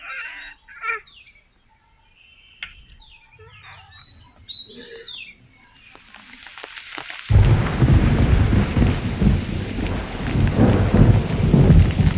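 Scattered bird chirps in a quiet village give way to a sudden, heavy downpour that roars steadily and loudly, with low rumbling of thunder beneath the rain.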